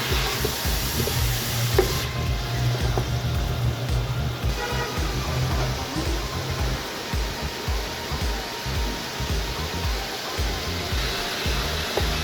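Tomatoes with ginger and garlic frying in a pan for mutton yakhni biryani, a steady broadband sizzle with scraping stirring strokes throughout, close and fairly loud, a low hum underneath.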